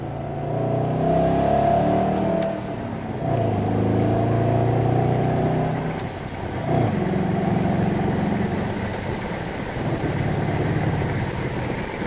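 A Dodge SRT Challenger engine idles and rumbles steadily as its automatic gearbox drops into first gear, a loud, close, sustained low drone with slight shifts in pitch and no talking.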